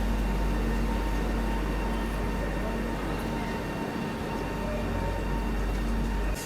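The Gujarat Sampark Kranti Express pulls into Godhra station with a steady, loud rumble of rolling wagons and a low mechanical hum that runs unbroken throughout.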